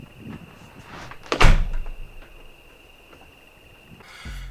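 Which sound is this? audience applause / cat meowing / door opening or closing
door opening or closing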